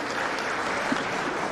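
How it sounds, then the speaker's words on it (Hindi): A crowd at a Block Diwas day event in Hiranagar, Jammu and Kashmir, attended by the Lieutenant Governor, claps briefly in a continuous dense patter of applause. "तालियां जरूर बजाइएगा।"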